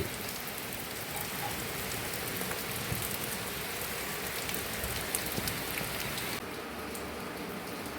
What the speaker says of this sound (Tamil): தீபாவளிக்கு பயங்கர மழை